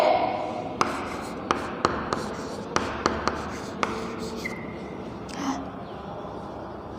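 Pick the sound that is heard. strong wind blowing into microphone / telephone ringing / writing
writing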